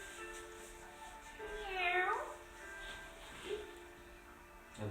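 A person imitates a cat's meow during an evening yoga session, one drawn-out rising and falling meow-like call near the middle with a shorter second one after, over quiet room tone.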